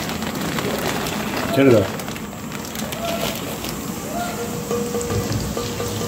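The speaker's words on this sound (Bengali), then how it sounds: "পোলাওয়ের কাজু আর কিশমিশ ভেজে নেওয়া হলো।" Cashews and raisins sizzling in hot oil in a kitchen pan for pulao, a continuous frying hiss with a brief louder burst, under voices talking nearby.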